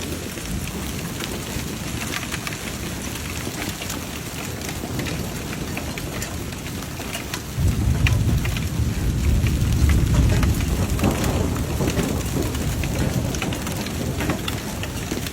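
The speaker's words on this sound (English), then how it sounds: "Fucking storm" Heavy rain pours steadily through a violent thunderstorm with straight-line winds in Pennsylvania, a constant dense hiss that swells louder about halfway through as a deep rumble of thunder rolls in underneath.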